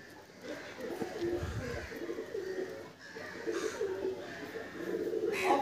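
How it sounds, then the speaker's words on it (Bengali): Pigeons in a loft coo in soft, low, rolling calls that repeat close by over a faint background. "তো পায়রাগুলো এবার একে একে সব করে দেখিয়ে দেবো।"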